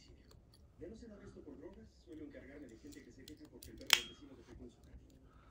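Victorinox SwissChamp multitool scissors snap open with one sharp, close click, heard beneath steady Spanish-language talk that runs through the whole passage.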